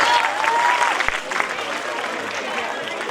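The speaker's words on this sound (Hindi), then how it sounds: "कि तालियां ऐसी बजे कि महफिल में जान आ जाए।" Audience applause at a school annual function, a steady wash of clapping from a crowd heard at moderate distance, with faint voices mixed in.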